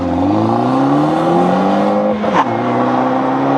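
2013 compact starter sedan (Dodge Dart, Buick Verano or Chrysler 200) accelerating hard from a standstill to 60 mph, a loud, steady engine note rising in pitch, briefly dipping at a gearshift into third, then climbing again.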